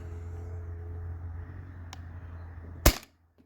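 A modified Sabre 68 CO2 air pistol fires a single sharp, close crack after a few seconds of low steady background hum, and then the scene falls almost silent.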